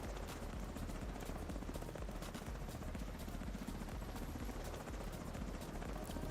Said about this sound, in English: Helicopter, helicopter, inbound.